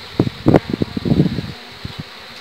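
Honeybees in a hive stripping wax from a queen cell give a near buzzing hum, with a run of soft bursts and rustles early on that thin out toward the end.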